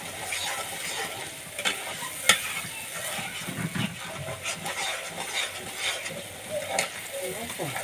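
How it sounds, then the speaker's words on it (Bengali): Onions and spices sauté in a pan during cooking of beef and chicken pulao, with crackling sizzle, clinking and scraping stirring sounds in an uneven rhythm, close and moderately loud. "হুম কষাতে কষাতে পেঁয়াজে গুলি লেগে থাকে"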